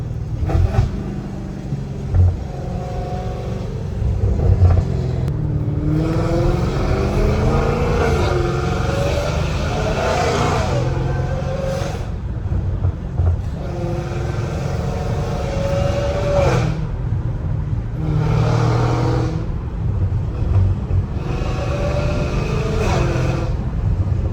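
An 850hp Dodge Hellcat Redeye roaring through hard second-gear pulls, its loud engine rising and falling in repeated surges with gear changes, heard close from inside the car.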